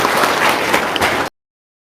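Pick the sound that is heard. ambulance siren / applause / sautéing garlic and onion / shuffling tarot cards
applause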